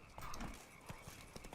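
Roach the horse gallops in The Witcher 3: Blood and Wine, a quiet, rhythmic clip-clop of hooves with faint background game ambience.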